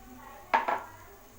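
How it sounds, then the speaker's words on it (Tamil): Spoon scraping and clinking against a pan as boiled chickpeas are stirred into a masala gravy, two quick metallic knocks close by over a faint kitchen background. "சன்னாவை சேர்த்திட்டு நல்லா மிக்ஸ் பண்ணி விடுங்க"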